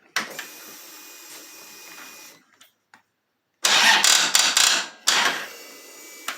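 Harley-Davidson 103 Twin Cam engine cranking on a Tusk jump starter, with bursts of starter whir separated by silence, a long grinding crank, a pause, then two louder straining cranking bursts that fail to catch.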